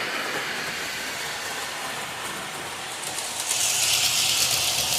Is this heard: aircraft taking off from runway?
no